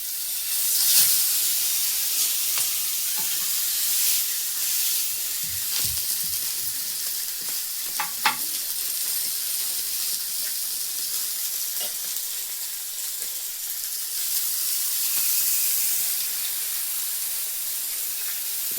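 Pieces of river fish fry in hot oil on a griddle over a wood-fired stove, a steady close hiss with crackles and pops as pieces are dropped in, no talking.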